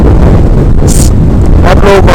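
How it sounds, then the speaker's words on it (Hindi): Loud, buffeting wind roars across the microphone of a motorbike riding a rough mountain road between Chilas and Besham, a continuous rumble with brief gusty bursts. "लोगों को हवा की आवाज़ सुनाई दे रही होगी।"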